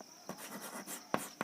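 A pen scratches faintly on paper during a maths lesson, giving a few soft, quick strokes with small taps over a quiet room hum.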